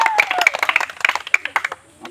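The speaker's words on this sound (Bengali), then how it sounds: "সবাই একটু হাতে তালি একসাথে" A group claps hands in steady rhythm during a blindfolded water-drinking party game, with sharp, close, even claps and voices mixed in.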